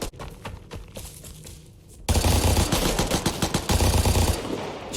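A heavy machine gun fires in the video game Vigor, short bursts of rapid shots at first, then loud sustained full-auto strings of booming rounds with brief gaps between them.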